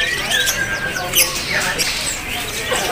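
At a bird market, a jalak rio starling gives rising and falling whistled calls and squawks, mixed into constant crowd hubbub with people talking nearby.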